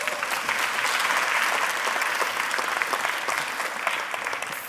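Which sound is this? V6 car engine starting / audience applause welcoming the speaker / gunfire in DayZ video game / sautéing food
audience applause welcoming the speaker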